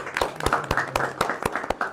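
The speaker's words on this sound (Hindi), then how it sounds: "बहुत सारी तालियां हो जाएं" Sharp, rhythmic hand claps ring out at a celebration event marking a channel reaching one million subscribers, close and regular in a brief burst.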